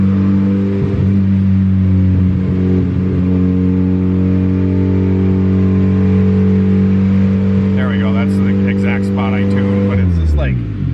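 A Honda D16 single-cam engine idles steadily on HunterTuned injectors, running a little rough and uneven, with a person talking over the close, constant drone.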